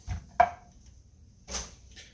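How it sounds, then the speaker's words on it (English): A knife chops through the ends of vegetables on a cutting board during gumbo prep, giving two or three separate close, crisp strikes with a quiet pause between them. "We're going to be chopping that up."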